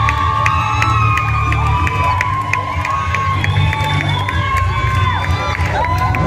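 At a women-in-film awards ceremony at the Kenya National Theatre, a large audience cheers continuously, with shouts, whoops and whistles rising over a dense, loud crowd roar.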